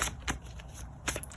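A 128-card oracle deck being shuffled in a few quick papery bursts, close and fairly quiet, with no voices.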